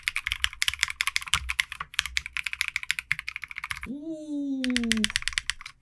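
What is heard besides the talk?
typing on custom Trigon60 mechanical keyboard with case foam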